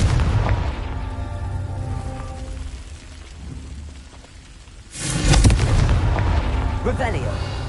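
Confringo spell blasts in Hogwarts Legacy make a heavy, rumbling burst of explosions that dips into a low drone, then surges again in a loud crackling blast near the end.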